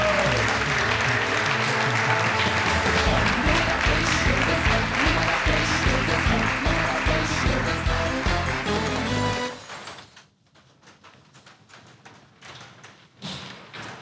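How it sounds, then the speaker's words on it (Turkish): An audience applauds to welcome a performer onto a stage at a Turkish television show. The clapping is loud and dense for about nine seconds, then drops away abruptly into quieter thumps and near silence. "Bu değişik gösteri için alkışlarınızla sahne."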